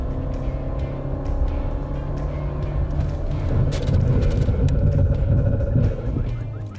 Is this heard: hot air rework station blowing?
no